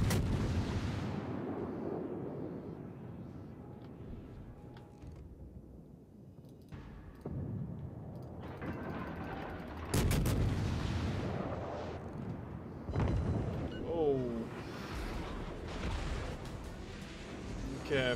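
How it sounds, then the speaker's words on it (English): Naval artillery fire from a battleship in the World of Warships video game: heavy booming shell blasts and rumbling impacts recur over eighteen seconds, some loud and close, mixed with whistling shells and game effects while a person talks. "fire coming in from a battleship"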